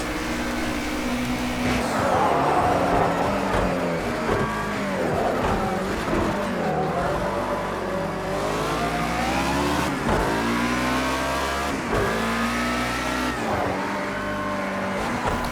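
Race car in the video game Project Cars 2, its engine revving up and down continuously through gear changes as the car twitches and slides, loud and steady throughout.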